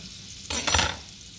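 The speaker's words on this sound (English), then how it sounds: "I like to put just a little bit of butter for flavor in my fried egg." A little butter hits a hot pan for a fried egg, sending out a sudden loud sizzling burst that lasts about half a second before fading back to a low background hiss.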